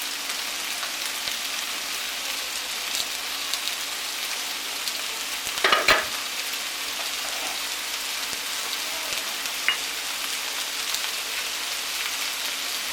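Browning steak and kidney meat sizzling in a frying pan as onion goes back in, a steady hiss like light rain with a brief cluster of clattering stirs midway, close and even, no voices.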